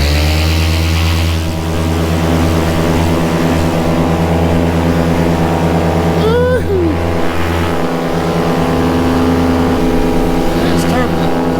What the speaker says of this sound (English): Motor seems to work.